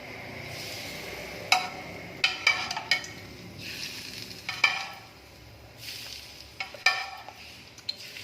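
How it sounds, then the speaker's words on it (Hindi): Hot baghar tempering poured over cooked urad chana dal topped with chopped mint, giving bursts of sizzling hiss with a few clinks of a spoon or pan, close and moderate. "अब मैं इसके अंदर डालूंगी जो हमने बघार तैयार किया था ये"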